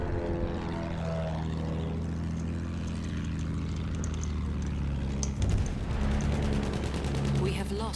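Propeller plane in Battlefield 1 drones steadily and loudly throughout, mixed with battle noise and bursts of gunfire, while players talk over it.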